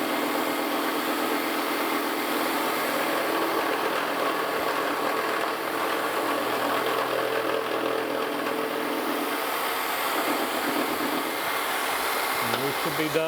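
A machine tool takes a facing cut on a steam locomotive spring hanger, giving a loud continuous whirring and cutting roar that holds steady at close range before shifting near the end.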